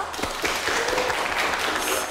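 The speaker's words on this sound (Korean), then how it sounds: "박수 부탁드릴게요" Students at a university energy resources engineering department applaud before a professor's mini lecture, a steady, fairly loud wash of many hands clapping with a few distinct claps early on.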